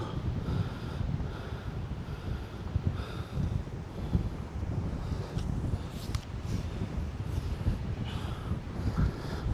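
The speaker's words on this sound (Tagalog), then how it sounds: "Sarap ng hangin." Steady low wind buffeting the microphone in a forest in the mountains of Magallanes, Cavite, a constant rumbling rush that continues without pause.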